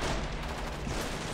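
Dense, continuous gunfire from a modern combat video game, CMSF2, several weapons firing together in a loud, unbroken rattle with no clear gaps and no voices.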